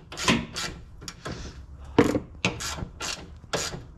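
A 12 mm socket wrench on a G37's hood bolts, making bursts of ratcheting clicks and grinding metal turns, close and fairly loud with short pauses between pulls.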